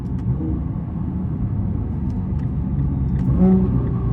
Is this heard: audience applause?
no